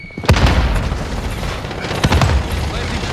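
A fragmentation grenade detonates in a battle royale shooter at a military base, with a loud close blast followed by another heavy boom and crackling rumble.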